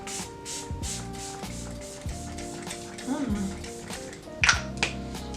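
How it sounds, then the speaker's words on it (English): Short misty bursts of LA Girl H2O Lock Hydrating Setting Spray are spritzed onto a face, two quick puffs standing out over soft background music with light tapping and handling noises. "we're gonna be using this H2O Lock Hydrating Setting Spray from LA Girl"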